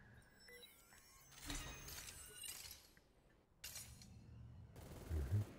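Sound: gunfire in Super Mecha Champions video game

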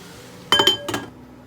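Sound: pot lid being closed

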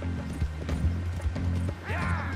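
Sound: horse hooves in Red Dead Redemption 2 video game

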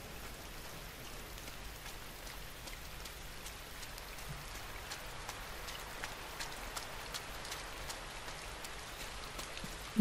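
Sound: rain falling in the video game INSIDE

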